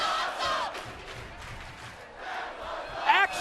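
A wrestling crowd roars and cheers after a table crash at a 2006 arena event, a sustained moderate wash of voices heard from a distance, swelling briefly near the end.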